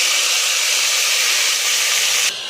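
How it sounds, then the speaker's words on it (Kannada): A loud, steady crackling hiss of mustard seeds, curry leaves and asafoetida sizzling in hot oil, continuous and close, dropping off abruptly near the end. "ಒಂದು ಸ್ಪೂನ್ ಎಣ್ಣೆ ಹಾಕಿ ಸಾಸಿವೆ ಕರ್ಬೇವಿನ ಸೊಪ್ಪು ಹಿಂಗು ಹಾಕ್ತಿದ್ದೀನಿ"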